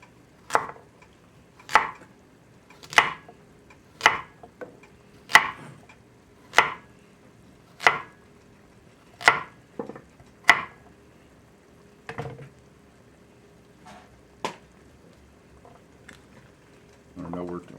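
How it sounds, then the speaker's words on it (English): A knife chopping carrots on a cutting board gives about a dozen crisp, evenly spaced thuds, close and distinct, slowing and thinning toward the end over faint background noise. "Alright, let's get these carrots cut up."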